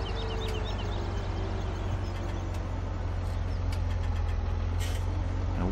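A large tractor engine in Farming Simulator 17 runs at a steady idle, a constant low rumble with a faint whine, loud and unbroken throughout, with no voices.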